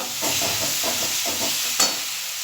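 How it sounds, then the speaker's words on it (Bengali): Turmeric powder and spices with tomato sauce are sautéed in a pan for Rupchanda fish curry, giving a steady close hiss with soft, rhythmic stirring scrapes and one sharper clink near the end. "দিয়ে দিচ্ছি হলুদ গুঁড়ো এটা দিয়ে এবার আবার কষিয়ে নেব"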